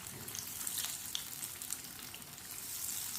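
Aloo tikki potato patties frying in oil in a pan, a steady close crackling sizzle with small pops throughout.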